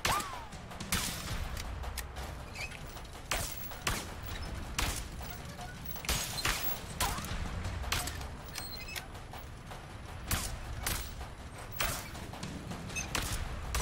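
Repeated gunfire from the co-op video game A Way Out as shots take out lights, a dense run of sharp, loud bursts and crashes spread across the whole stretch over a steady game-noise bed.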